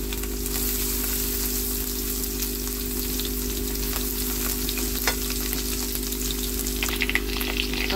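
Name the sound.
garlic ginger paste sautéing in pan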